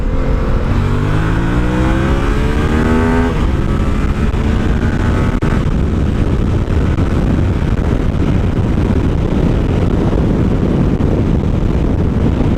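Master of Torque motorcycle with a CP2 parallel-twin engine accelerating hard in second gear, revs climbing quickly in rising tones before fading into loud wind rush, close and continuous.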